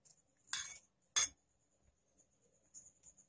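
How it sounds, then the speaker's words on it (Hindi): A spoon clinks against a bowl while honey is mixed in for a fruit sandwich filling, two sharp, close metallic taps about half a second apart, then faint ticks in near silence. "अब इसमें हम दो बड़े चम्मच हनी डालेंगे और मिक्स कर देंगे"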